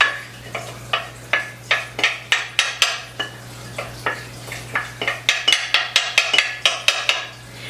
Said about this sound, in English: Sorry for the scraping of the bowl